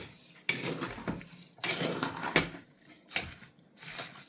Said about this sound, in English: And it's going to give it a good mix.